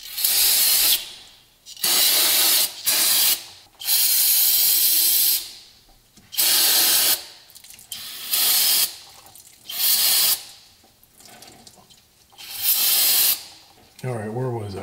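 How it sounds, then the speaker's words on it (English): Brake cleaner sprayed on a Jeep rear axle in repeated loud hissing bursts of about a second each, separated by short pauses, with brief talk at the end. "I need to get some brake clean on this"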